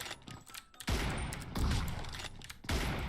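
Gunfire in a battle-royale style video game, the player using an M24 bolt-action sniper rifle; loud broadband bursts of shots and fusillade noise fill most of the span with brief dips between, no talking.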